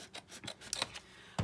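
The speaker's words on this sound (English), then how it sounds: "I'm going to use my scissors. And since this back is a little thicker, you can kind of follow the line to make the cut." Scissors snipping through thick vintage book paper to cut a junk journal tag, a few soft close rasping cuts in irregular rhythm ending with a louder thump.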